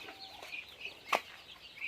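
Chickens cluck on a small farm that also keeps ducks and geese, a few short soft calls and one sharper squawk in the middle, heard faintly against a quiet outdoor background.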